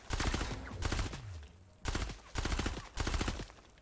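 Weapon fire in Fortnite Save the World: four or five rapid bursts of gunshots with brief gaps between them, close and fairly loud, plus a falling whine after the first bursts.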